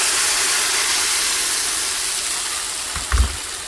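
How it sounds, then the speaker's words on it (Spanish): Green salsa hits hot oil, left over from frying tortillas, in a clay cazuela. A loud, steady sizzling hiss runs throughout, and a brief dull knock sounds near the end. "vamos a freír la salsita"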